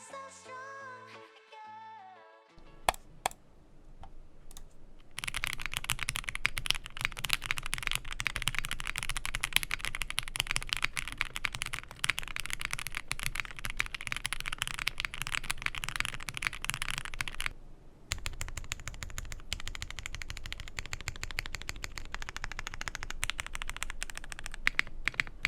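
Rapid, steady typing on a Zoom65 EE V2 mechanical keyboard fitted with APBT Sky Dolch keycaps, close and continuous with a foamy, slightly thin clack, briefly pausing near the end before resuming.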